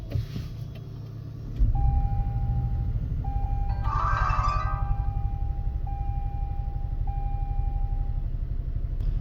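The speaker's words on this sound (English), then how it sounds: "Now let's go ahead and start up the vehicle." A car engine catches and settles into a low, steady idle, heard from inside the vehicle, while a thin electronic tone beeps on and off over the hum.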